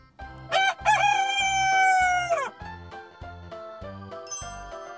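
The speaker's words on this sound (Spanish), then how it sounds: "Papá gallo." A rooster crows once, loud and drawn out, over a steady bouncy music beat with chiming bell tones and no talking.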